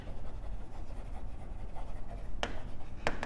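A pen scratches across paper during a genetics lecture, a soft close scribbling texture ending with a couple of sharper ticks as strokes finish, with no voice over it.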